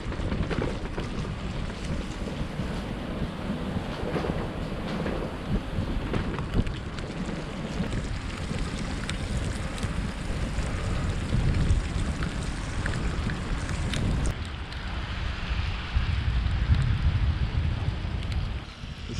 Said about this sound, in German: aber schade, schade, dass es so regnet.